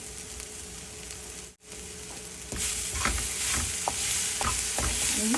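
A tempering of oil and asafoetida for ivy gourd sizzles in a pan, briefly drops out, then returns louder with a steady frying hiss and repeated close scraping strokes of a spoon stirring.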